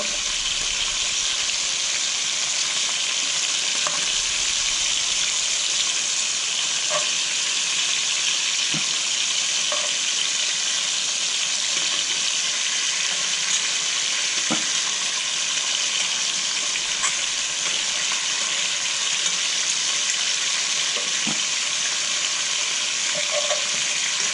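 Beef pieces for boeuf bourguignon sizzling steadily in a Dutch oven, a constant bright crackling hiss with occasional soft pops and clicks, close and alone without voices.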